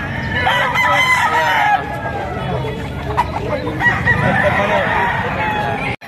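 A rooster crows loudly at a busy chicken market, with clucking fowl and a babble of voices all around; the crow carries over several seconds before cutting off abruptly.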